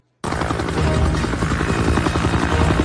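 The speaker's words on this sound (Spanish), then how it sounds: "Un helicóptero blanco y rojo sobrevuela el bosque en búsqueda de los fugitivos." A white and red helicopter flies low over a forest. Its rotor drone starts suddenly and stays loud and steady, with a dense thumping beat and no voices.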